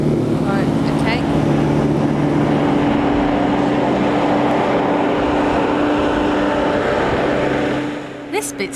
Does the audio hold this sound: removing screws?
no